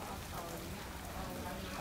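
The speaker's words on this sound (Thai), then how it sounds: "ตอนนี้ฝนตกหนักมากค่ะ" Heavy rain falls steadily in Sisaket province during a flood, a dense, even wash of noise that holds at a constant level throughout with no voices above it.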